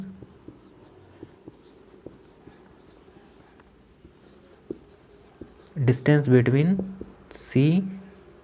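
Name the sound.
writing distances during maths lesson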